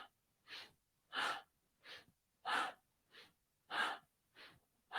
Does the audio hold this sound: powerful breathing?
yes